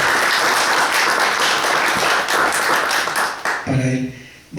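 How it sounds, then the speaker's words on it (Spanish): An audience at a Spanish-language poetry book presentation applauds, a full, steady clatter of many hands that fades and stops, leaving a voice speaking at the end. "pedimos también un fuerte aplauso"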